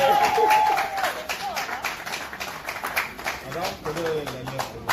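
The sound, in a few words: audience applauding at a wedding celebration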